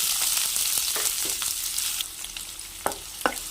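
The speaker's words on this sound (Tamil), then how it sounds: "இப்போ வெங்காயம் நல்லா வதங்கட்டும்." Two medium onions sliced lengthwise sauté with dry red chillies and cumin in hot oil, a steady close sizzle punctuated by a few sharp spoon scrapes and taps toward the end.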